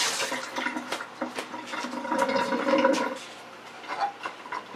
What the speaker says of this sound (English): so now wash my hands a minute